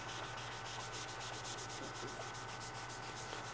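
Steady, faint scrubbing of a tumbler with a magic eraser and rubbing alcohol, a continuous soft rubbing hiss with rhythmic strokes roughly every fraction of a second, heard alone.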